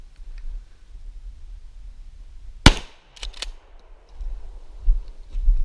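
A Remington 870 shotgun fires a single #1 buckshot round at 20 yards during pattern testing. One sharp, loud blast cracks out of quiet outdoor ambience, followed by a brief echo and a couple of faint clicks.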